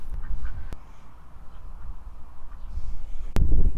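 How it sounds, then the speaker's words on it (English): Ducklings by a pond in an enclosure give faint, scattered quacks over low outdoor rumble, with a couple of sharp clicks standing out. "These are ducklings who've discovered the pond."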